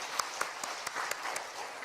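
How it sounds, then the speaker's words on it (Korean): A church congregation at a Korean worship service claps for its praise team: short, quiet, evenly spaced claps in a quick rhythm, like a few hands clapping together. "우리 찬양팀에서 박수 한번 해주시다."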